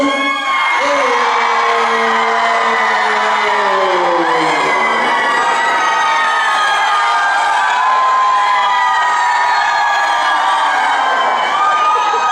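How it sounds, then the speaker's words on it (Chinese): A concert audience at Tainan's Yongcheng Theatre, at a Taiwanese-language singer's show, screams and cheers loudly and continuously, with high whoops and shrieks rising over a dense roar of many voices close to the microphone. "来，尖叫声！"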